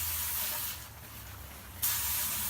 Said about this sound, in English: Move them around, and then just gently spray them with cold water.